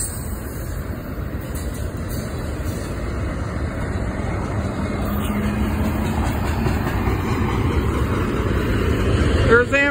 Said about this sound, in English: There's Amtrak. Amtrak's gonna be hitting on this track, on this, the first one here.